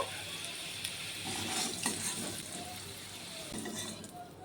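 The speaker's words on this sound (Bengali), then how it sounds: "আলুটাকে আরও একটু ভেজে নেব।" Potato pieces frying in a karahi with a soft, steady sizzle and occasional stirring scrapes, fairly faint and close.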